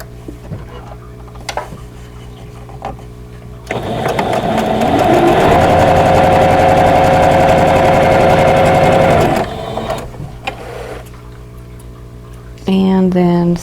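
A sewing machine runs in one steady, loud, fast stitching burst of about six seconds while piecing 3.5-inch quilt block squares for a vintage Baby Bunting block, with quieter handling noise before and after.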